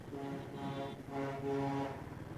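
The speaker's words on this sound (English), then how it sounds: "That's a big lorry by the sound of it." A large lorry rumbles past a roadside crossing with a deep droning engine, its tone swelling and holding steady as it goes by, with no one speaking.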